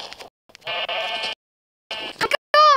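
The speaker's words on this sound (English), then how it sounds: "Let's get some sheep!" Sheep bleating in Minecraft, several short, nasal bleats in separate bursts with brief silent gaps between them, close and fairly loud, with no speech over them.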